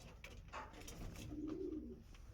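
Andhra Lal Sira pigeons coo softly at close range, with a few low, rolling calls over quiet background noise.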